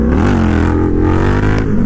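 An Indian FTR 1200 V-twin motorcycle with a full Toce exhaust and tune pulls hard in second gear, a loud, deep, throbbing engine roar rising in pitch, close up and continuous.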